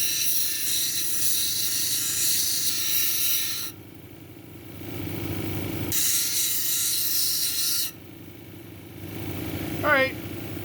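Quartz with feldspar cabochon being domed on a grinding wheel, a steady broadband grinding hiss that drops away and returns in two passes, with a brief squeal near the end.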